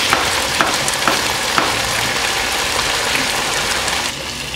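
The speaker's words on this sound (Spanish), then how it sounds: "a fuego alto para que se selle por ambos lados" Chicken searing in a pan over high heat, a loud continuous sizzle and crackle with scattered sharp pops, close and steady, briefly easing near the end.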